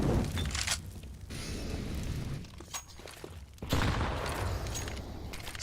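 Grenade blast in a Counter-Strike pro match at the ESL Pro League: loud bursts with shattering crackle and booming, a couple of sharp explosive hits within a dense, noisy game soundscape, no voices.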